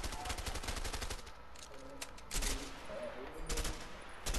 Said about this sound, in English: Shoot here, shoot the house.